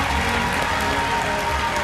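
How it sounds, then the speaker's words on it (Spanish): Audience applause at an awards ceremony for standard-bearers, a dense steady wash of clapping that fills the short moment at fairly loud level without any voices. "Fuerte el aplauso"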